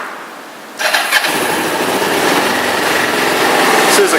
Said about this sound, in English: Alright, let's fire it up.